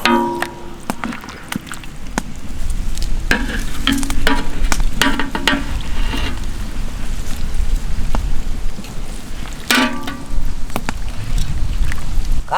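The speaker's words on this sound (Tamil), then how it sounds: "அழகான கல் உப்பு சேர்த்து நல்ல ஒரு கலக்கி விட்டுக்கணுங்க" Fish gravy with vegetables is stirred in a pan after rock salt goes in, giving a steady frying sizzle with repeated scraping and clacking strokes of the spoon, close and fairly loud throughout.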